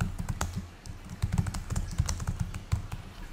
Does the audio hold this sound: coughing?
no